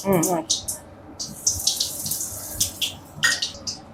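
Mustard seeds hit hot oil with bursts of crackling sizzle and sharp pops arriving in uneven clusters, close and fairly loud, while a brief voice sounds at the start.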